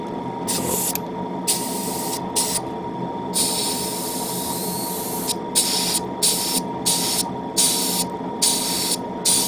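Short hissing bursts of spray paint on a Gundam model kit, repeated in quick light passes with brief gaps, over a steady low hum and rumble in the background.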